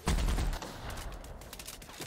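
Gunfire in The Outer Worlds, a dense burst of shots opening loud and then rattling on steadily at a lower level, with no talking over it.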